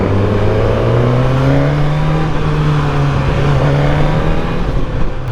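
A 2022 Suzuki GSX-S1000 with a Yoshimura R11 exhaust revs loud and close, its engine note sweeping down through automatic blipped downshifts, with no talking.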